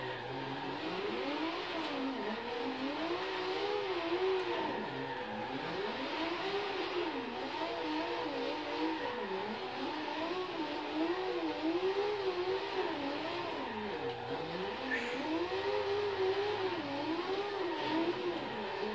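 A manual car drifting gives a continuous engine drone that swoops up and down in pitch with repeated revving surges, steady and fairly close throughout with no talk.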